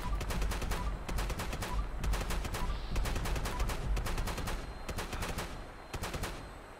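Gunshots in Fallout 76, loud rapid shots fired in quick repeated bursts, with a few brief gaps between volleys.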